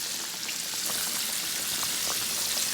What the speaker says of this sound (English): So I have 2 fillets frying right now.